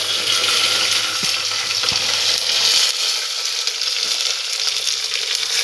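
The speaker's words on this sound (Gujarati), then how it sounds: "અને હવે નાખી દેવાની છે ડુંગળી." Onions frying steadily in a pan for an outdoor village cook-up of whole brinjal, a continuous loud sizzle and crackle with occasional stirring, no talk.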